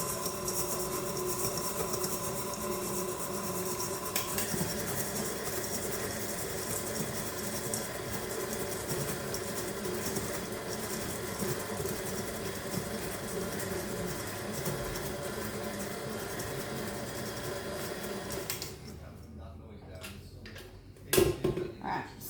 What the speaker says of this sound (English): we're back over at the mixer. We've got our Biscoff and our cream cheese.